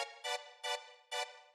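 A string sample used for a classic house stab plays as four bright, short chord hits in an uneven rhythm, each sharp and sustained briefly before cutting off, heard alone and clean.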